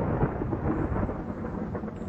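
Thunder rumbles steadily through a thunderstorm, a dense, continuous low roll mixed with the hiss of rain, with no voices.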